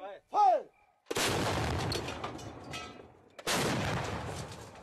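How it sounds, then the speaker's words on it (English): 130 mm artillery shells fired at night in rugged mountains, two heavy booming blasts each trailing into a long rumbling echo, preceded by a brief warbling tone. "The army does not sleep either, pounding them with 130 mm artillery shells."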